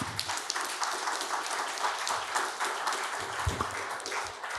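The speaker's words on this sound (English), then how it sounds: "Let's give a round of applause for these strong mothers." An audience applauds mothers at a leadership and faith event, a steady, moderately distant wash of clapping lasting the full few seconds with a couple of faint low knocks.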